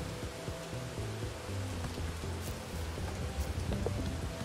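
Rain falls in the video game Bugsnax, a steady even wash of patter with soft low game tones underneath and no talk.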